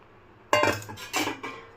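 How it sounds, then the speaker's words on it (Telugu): A spoon scrapes and clinks against a pan while stirring tamarind juice into a brinjal masala curry, two or three close metallic bursts that come after a short silence. "ఒకసారి మిక్స్ చేసుకుందాం"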